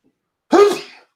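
A single sharp sneeze, close and loud, rising quickly and trailing off over about half a second after a brief silence.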